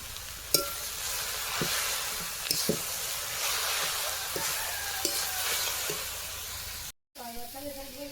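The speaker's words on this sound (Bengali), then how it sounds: "এখানে দেখো শাক কিন্তু আমি সুন্দর করে ভাজা করে নিয়েছি" Leafy greens fry with salt and turmeric in a pan, a steady soft sizzle broken by repeated scrapes and taps of stirring, then a short break before a faint voice.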